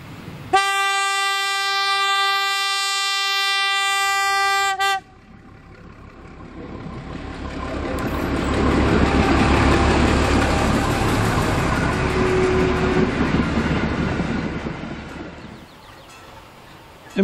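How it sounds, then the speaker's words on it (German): A loud, steady train horn blast rings out, then a freight train on the Kiel-Schönberg railway rumbles and clatters over a level crossing, swelling and fading over several seconds. "Kurz darauf rollt hier bereits der Güterzug über den BÜ."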